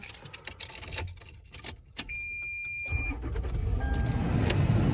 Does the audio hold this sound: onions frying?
no